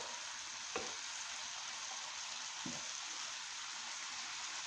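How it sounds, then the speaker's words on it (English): Egg roll in a bowl mixture sizzles steadily in a pan with a fairly quiet, constant fry, broken by two soft scraping stirs. "now I'm just gonna stir that up"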